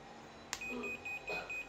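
A 48V 3000W motor controller in a short-circuit error state sounds a buzzer: a run of four short, high electronic beeps in a steady rhythm, following a sharp click, close and fairly quiet with no talk.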